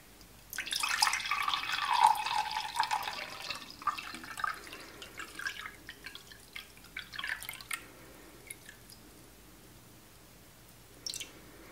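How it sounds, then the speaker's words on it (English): Water is poured into a candle jar set on a scale, a splashing trickle that starts loud and gradually thins into scattered drips and small clinks. "we're just gonna go ahead and determine how much water we want just by pouring it in there"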